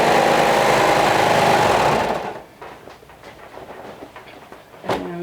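A sewing machine top stitching the shoulder seam of a hoodie runs with a loud, steady mechanical whir for about two seconds, then stops, leaving quiet handling noises.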